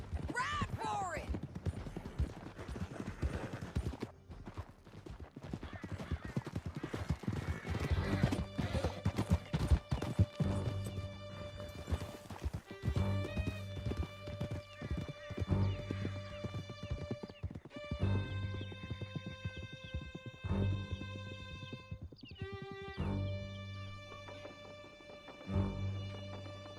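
Horses galloping in the video game Red Dead Redemption 2: continuous rapid hoofbeats with neighs and whinnies, under shouted dialogue and a swelling orchestral score, with occasional gunfire.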